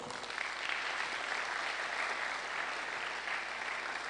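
An audience at a university pre-convocation lecture applauds in a dense, steady roar of clapping that holds at even loudness throughout, with no talking over it.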